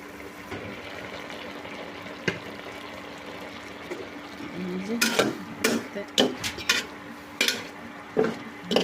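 Yardlong beans boiling in a pot with turmeric and salt, stirred with a utensil: a soft bubbling bed at first, then a run of rapid clanks and scrapes against the pot.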